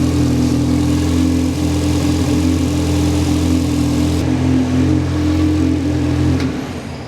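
A DTM Würth Ford Sierra RS500 Cosworth race car on its original Bosch ECU runs loud and close, a deep, steady idle with a strong low hum and a slight lift in revs before it fades at the end.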